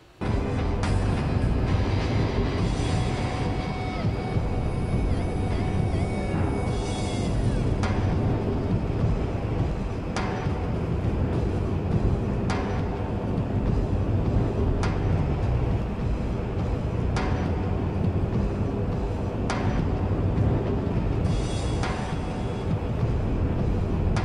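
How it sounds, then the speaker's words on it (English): Inside the video game Chaser, a long train ride produces a steady, loud low rumble of rolling rail noise, broken by occasional faint clicks and brief higher tones. "Yeah, this is a very long train ride."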